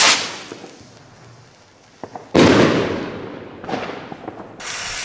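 A golden consumer firework fires a series of loud bursts, each a sharp bang trailing into crackling hiss, with a few small pops in between and another blast starting at the end.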